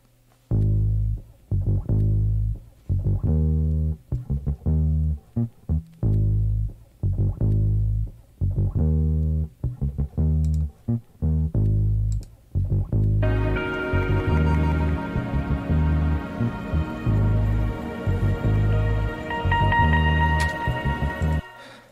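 A chopped drum break sample from a Drum Brokers pack opens a track intro, punchy kick and snare hits in a steady looping rhythm, then the full track layers in denser bright instrumentation partway through, loud and alone without speech.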